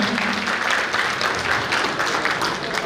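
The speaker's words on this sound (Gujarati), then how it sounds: "એકવાર જોરદાર તાળી કરવી જોઈએ આપણા વડીલ માટે" An audience at a community marriage gathering in Sardar Patel Hall, Anand, claps for an elder invited onto the stage, a diffuse, steady patter of many hands, moderately loud and slightly distant in a reverberant hall.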